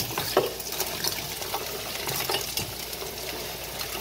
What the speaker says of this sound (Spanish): Ya cuando está guisada la carne, echamos los chicharrones.